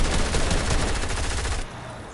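Rapid gunfire from a 1v1 video game match, a loud, dense burst of automatic shots rattling continuously before cutting off abruptly near the end.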